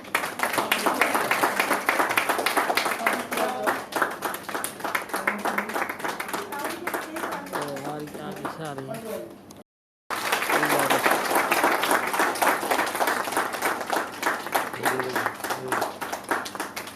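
Prolonged, hearty applause fills the hall at a book launch in Delhi, broken by a brief silent dropout about ten seconds in, with a voice briefly audible just before the break.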